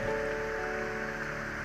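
Steady rain falls outside, a soft, even hiss that continues without pause and with no voices.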